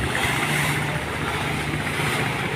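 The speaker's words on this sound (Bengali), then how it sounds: "এখন লঞ্চটা ব্যাক গিয়ার দিয়ে দিবে" A passenger launch's engine drones steadily in bad weather off Bhola, a loud, continuous low rumble with wind and water noise all around.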